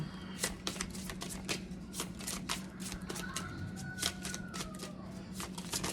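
Oracle cards are shuffled close by in quick repeated riffles, crisp flicking bursts in a steady rhythm with no talk.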